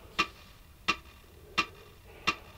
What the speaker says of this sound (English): So I'm going to put a metronome on now.